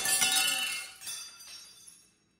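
A wine glass shatters with a sharp crash, followed by a second tinkling clink of shards and a fading ring, loud and close with no talking.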